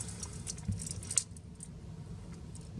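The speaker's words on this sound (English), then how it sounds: "These are my keys." A minimal everyday-carry keychain jingles close up as metal keys clink together in a few light shakes, with a sharper clack partway through and quiet afterward.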